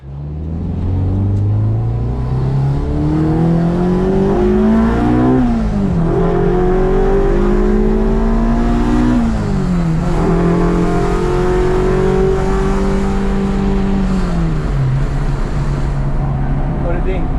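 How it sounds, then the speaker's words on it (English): A 1990 Acura Integra on a test drive after a new balancer and suspension work: a loud in-cabin engine drone rising and falling through repeated accelerations and gear changes over about seventeen seconds. "Take it out for a test drive"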